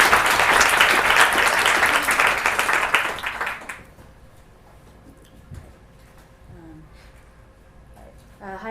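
A lecture audience at California College of the Arts claps to welcome the speaker. The full applause lasts about three and a half seconds, then quickly fades into a quiet room with faint scattered sounds.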